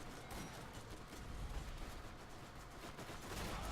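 Dense, continuous gunfire from a Borderlands firefight, including shotgun blasts, with overlapping shots and explosive bursts keeping the noise loud and steady throughout.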